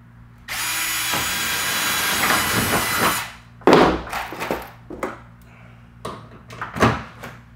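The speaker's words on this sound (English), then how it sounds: "I'm going to drill my first hole." A power drill bores a rivet hole during a Club Car golf cart Sleekline installation, one steady loud whine of about three seconds, followed by several clattering thunks as the tool is handled.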